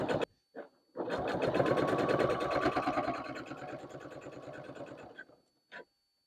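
A sewing machine top-stitches fabric down on a quilted project bag, a fast rhythmic chatter running about four seconds after a few brief starts, close and moderately loud with no voices.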